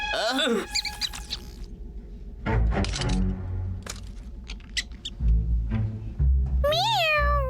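A cartoon cat meows in high, sliding cries at the start and again at the end of a Boonie Bears animated scene, with lively speech and bumping sound effects in between.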